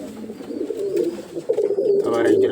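Pigeons coo softly and repeatedly at close range, a low throaty warble with faint chirps in the background.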